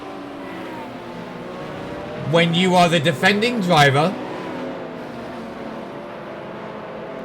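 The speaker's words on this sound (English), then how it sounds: "Wow, these cars are loud." Race cars in a GT3 racing game at Monza, a steady engine drone running throughout beneath someone talking.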